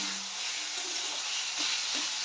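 Grated coconut fries in a pan with a steady, dense sizzle that holds evenly throughout, close and fairly loud, with no voices.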